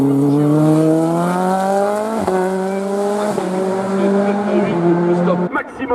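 A Simca CG Turbo race car climbs a hill-climb course, its turbocharged engine holding a loud, close, steady note with rising pitch sweeps through gear changes, broken by sharp shift cracks before fading near the end.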